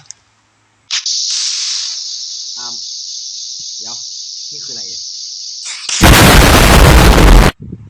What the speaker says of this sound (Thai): รอเดี๋ยวครับระเบิดเดี๋ยว